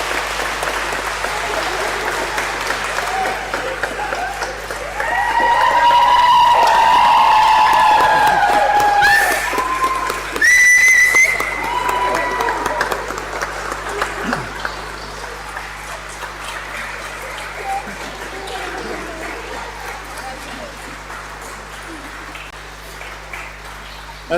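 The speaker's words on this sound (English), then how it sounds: "perhaps you will give all of these people a round of applause" An audience in All Saints' Church applauds after a choir concert, sustained clapping with some cheering and whistles, swelling in the middle and then fading under scattered voices and crowd murmur.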